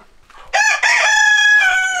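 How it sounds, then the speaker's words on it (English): A rooster crows loudly and close by, one long drawn-out call with a brief break, alone with no other sounds. "And these chickens, MJ and his 2 hens here, they knocked it over"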